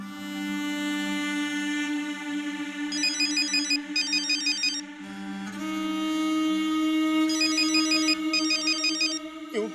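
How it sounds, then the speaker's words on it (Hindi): A phone ringtone plays repeatedly, a bright electronic melody with rapid chiming bursts, loud and close, with no talking. "फहीम चाचा को फोन करती हूँ।"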